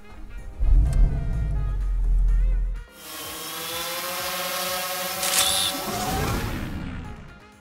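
A Porsche 718 Boxster with PDK gearbox and flat-four engine, first a deep rumble at idle, then a loud, harsh, buzzing rev that holds and climbs before easing off.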